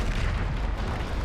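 Explosive Confringo and Bombarda spells going off in the video game Hogwarts Legacy, a dense, continuous rumble of blasts and bursts filling the whole moment at steady, loud level with no clear gaps between impacts.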